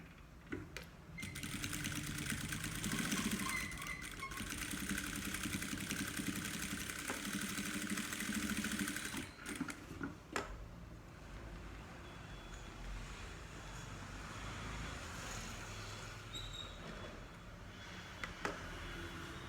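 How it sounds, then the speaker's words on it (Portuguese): A sewing machine runs in a steady, fast whirring stitch, close and fairly loud, as it sews the straps of a car trash bag, with brief pauses and the back-and-forth of reverse stitching, and no talking. "E vou passar uma costurinha de segurança, uma costurinha fininha, mas vou dar retrocesso em cima dessas alças"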